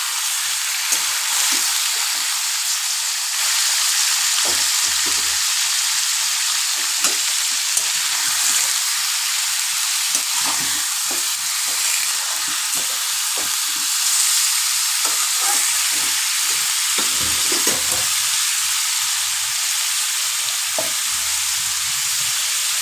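Chicken pieces fry in hot oil for a Bengali chicken curry, giving a steady, loud, close sizzle with occasional stirring bumps and crackles throughout, and no voices.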